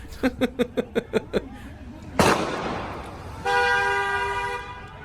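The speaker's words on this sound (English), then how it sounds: "Maybe if I honk, they'll stop." A car horn honked in a shooter video game: seven quick, evenly spaced toots, then a sharp crash and a sustained ringing tone.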